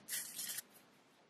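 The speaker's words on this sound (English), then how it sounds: "I'm only trying to spray right here where the lace is." Lace tint spray misted onto the lace of an HD closure wig, one short hissing burst of about half a second, close and fairly soft, followed by quiet room tone.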